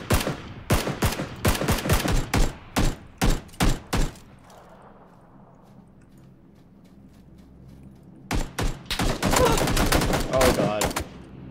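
Gunfire in PlayerUnknown's Battlegrounds, loud rapid bursts of shots at the start, a pause with a low rumble, then another dense volley of close shots.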